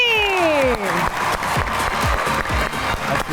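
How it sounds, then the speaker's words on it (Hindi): A studio audience on a comedy talk show claps to welcome two comedians on stage, the clapping rhythmic and lively, mixed with bright music that opens with descending sliding tones. "आप सबकी तालियों में तशरीफ लाते हैं बरकत और उज़्मी।"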